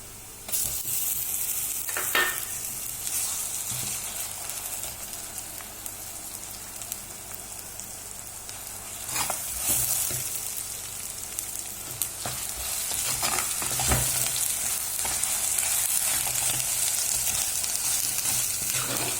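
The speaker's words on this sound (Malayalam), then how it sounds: "അപ്പം നമുക്ക് ഈ അരച്ച മല്ലിയും മുളകും സബോളയും കൂടി അരച്ച മിക്സ് അതിലേക്ക് ഇട്ടിട്ട് ഇളക്കാം" Ground coriander, chili and onion paste is stirred into fish curry frying in a pan, giving a steady close sizzle broken by a few sharp scrapes and clinks of the spoon against the pan.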